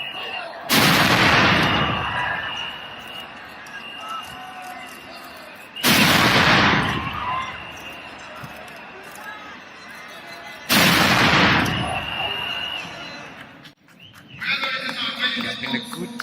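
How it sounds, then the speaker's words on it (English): Ceremonial 21-gun salute at an outdoor presidential inauguration: three loud, booming cannon blasts about five seconds apart, each followed by a long rolling echo over a murmuring outdoor crowd. "we're about to do the 21 gun salute"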